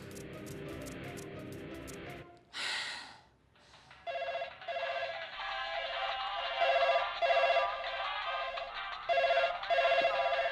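An electronic phone ringtone plays a short melodic phrase over and over, loud and close, after a brief burst of other sounds at the start.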